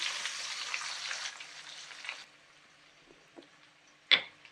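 Onions sizzle in a hot pan for an egg pulusu, a steady broadband frying hiss for about two seconds that then drops to quiet crackle with a few soft clicks and one sharp clack near the end.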